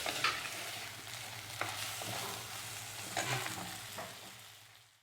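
Prawns and grated coconut are stirred in a hot pan, a steady sizzle with repeated spoon scrapes that fades out at the end.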